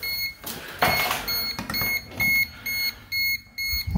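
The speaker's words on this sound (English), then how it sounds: "Why is that beeping?" Electronic beeping from an alarm in a house where old wiring is being disconnected, a series of short regular beeps, moderately loud and close, with faint background noise between them.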